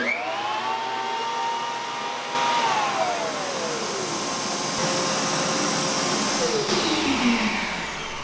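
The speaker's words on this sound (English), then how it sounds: "They're hooked up to some rigid vacuums, 5 horsepower vacuums." Ridgid 5 horsepower shop vacuums fitted with DeWalt cyclone dust separators run in a woodworking shop, a loud steady whooshing roar with whining motor tones that rise at spin-up and then slowly fall as one unit winds down.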